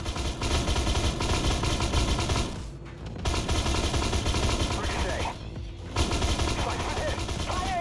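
Sustained machine gun fire from a vehicle-mounted weapon in Armored Warfare, the tank game, loud and continuous with two brief pauses, an engine rumbling underneath and a voice speaking over parts of it.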